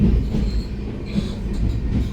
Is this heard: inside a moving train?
yes